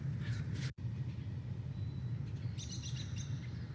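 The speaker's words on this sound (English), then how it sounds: "here, I believe, is the robin" A recorded American robin song plays back faintly over a low hum, with a brief dropout early on and a series of clearer, high chirping phrases near the end.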